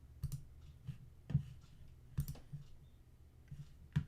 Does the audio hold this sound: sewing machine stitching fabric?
no